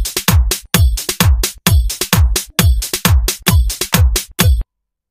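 Programmed drum beat playing back in Cubase 5, a loud, steady electronic pattern of punchy kicks and crisp snare and hat hits in a repeating rhythm, with no talking, ending abruptly in silence.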